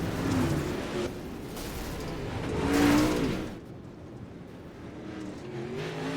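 Dirt late model race cars roar around I-55 Raceway, engines swelling to a loud peak as the pack passes close by, then fading into a steady distant drone.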